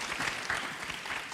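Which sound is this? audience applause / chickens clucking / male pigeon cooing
audience applause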